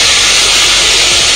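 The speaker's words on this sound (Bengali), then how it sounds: "মাছ এক সাইড ভাজা হয়ে গেছে, উল্টে দিচ্ছি।" Silver carp pieces fry in hot oil after being flipped, giving a loud, dense, unbroken sizzling hiss close by.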